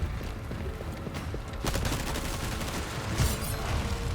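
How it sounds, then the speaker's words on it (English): Shotgun blasts ring out in the Resident Evil 4 Remake video game, several sharp booming shots amid busy game noise, fairly quiet overall with no talk. "Shotguns are really good."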